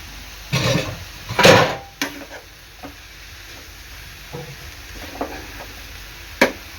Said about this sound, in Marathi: आपली ही भाजी आहे ना एक 7 ते 8 मिनिटं चांगली शिजवून घ्यायची आहे